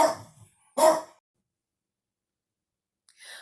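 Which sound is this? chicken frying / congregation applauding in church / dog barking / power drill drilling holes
dog barking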